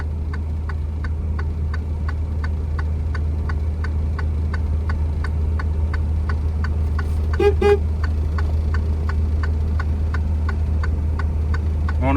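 A car horn honks in a short double blast partway through, over a steady engine idle and a regular ticking indicator clicking throughout.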